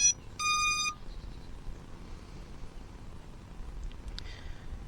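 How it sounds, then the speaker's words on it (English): A Potensic D85 drone controller sounds short electronic beeps while initializing: a brief tone at the start, then a longer steady beep, loud and close, followed by quiet background. "The beep beep and the flashing means the controller is initializing."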